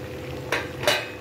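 Paneer cubes dropped one at a time into hot spiced oil in a pan, giving two short sizzling bursts over a low steady frying hiss, close by.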